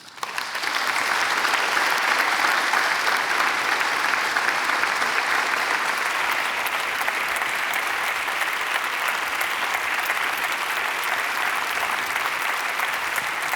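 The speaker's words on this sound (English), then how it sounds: "This is your applause." Sustained applause from a conference audience at a media and disability forum, closing a presentation; dense, steady clapping fills the hall throughout, loud and even with no voices over it.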